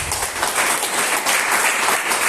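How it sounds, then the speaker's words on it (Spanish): A congregation applauds at a church sermon, a loud, steady wash of many hands clapping together without pause throughout. "Dale un aplauso a Rey de Reyes"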